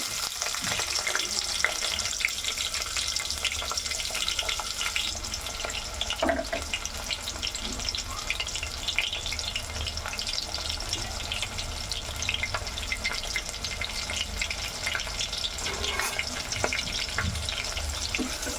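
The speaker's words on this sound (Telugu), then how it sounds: "ఈ ఆనియన్స్ని మనం బ్రౌన్ కలర్ వచ్చేంత వరకు ఫ్రై చేసుకోవాలి." Onions frying in hot oil with green chillies, cloves and cinnamon for vegetable pulao, a steady close sizzle and crackle running throughout with occasional stirring scrapes and no talking.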